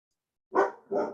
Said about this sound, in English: Sorry, my dog's freaking out.